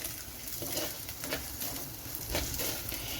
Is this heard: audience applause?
no